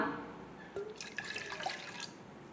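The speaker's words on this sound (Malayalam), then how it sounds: "ഈ പാത്രത്തിലേക്ക് തന്നെ നമുക്ക് ഈ ഒരു ഗ്ലാസ് വെള്ളം ഒഴിക്കാം" A glass of water poured into a pot of already-boiled liquid while making tea gives a brief close splash and trickle, quiet and heard alone.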